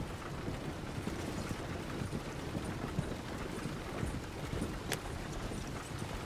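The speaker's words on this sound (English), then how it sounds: "I think the horse is getting skittish." Horse hooves clip-clop steadily on a road in the video game Red Dead Redemption 2, a continuous quick rhythm of fairly soft hoofbeats over constant ambient noise.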